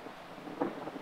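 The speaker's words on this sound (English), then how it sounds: "You can hear that thunder in the background." Distant thunder rolls faintly during an outdoor women's team disc golf round, a soft low rumble that swells briefly against quiet background noise, with no voices.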